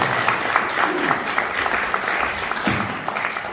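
Applause for a lecturer at an international-friendship training event in a multipurpose hall, a crowd clapping steadily with some voices mixed in underneath.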